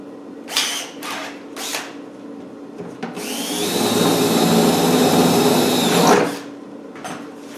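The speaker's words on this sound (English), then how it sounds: "Let me get my drill bit in." A power drill bores a rivet hole in a seat box during a repair. A few short bursts come first, then one sustained whirring run of about three seconds, heard close with no speech.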